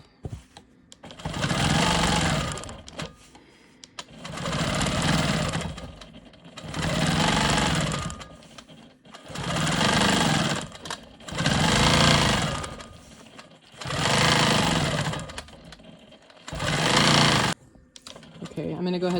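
Sewing machine quilting loops on a rolling stone quilt block, running in seven distinct bursts of steady whirring stitching separated by short pauses, close and moderately loud.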